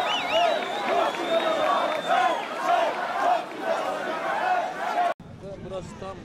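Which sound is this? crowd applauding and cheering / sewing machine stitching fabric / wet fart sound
crowd applauding and cheering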